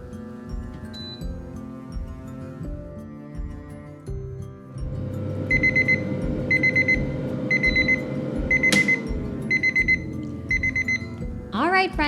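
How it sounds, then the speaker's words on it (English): An air fryer's 3-minute timer goes off with a series of short, high electronic beeps in regular bursts over the steady whir of the fan. "Our 3-minute timer just went off"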